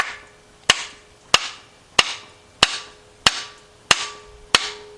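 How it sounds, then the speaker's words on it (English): Seven sharp metallic hammer blows on a car engine's harmonic balancer land at an even, unhurried pace, each ringing briefly before the next strike. "Then you're going to take you a nice size hammer"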